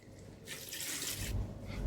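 Water is poured into a clay pot of chicken curry with potatoes and ground masala, a brief splashing gush lasting under a second, close and fairly quiet.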